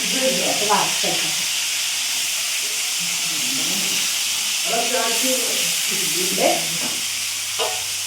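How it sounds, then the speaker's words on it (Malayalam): Steady hiss of food frying in a pan, continuous throughout, with people talking over it. "ഒന്ന് വറുത്ത് മൂപ്പിച്ചെടുക്കണം"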